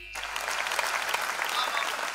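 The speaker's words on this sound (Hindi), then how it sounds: "जगीरा खत्म हुए, तालियां बजाइए।" A crowd at a Hindi poetry recitation breaks into applause after a brief pause, a steady, even patter of many hands that continues to the end.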